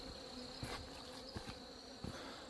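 Hornets buzz near a beehive, a faint, steady insect drone with a few brief louder passes as individual wasps fly close.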